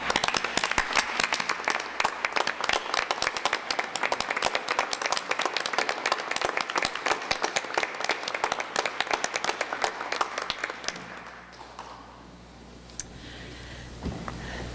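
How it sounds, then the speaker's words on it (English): Audience applause fills a board of education meeting room, dense steady clapping for about eleven seconds before it fades out and the room falls quiet. "I'd like everybody to join me in a round of applause for them."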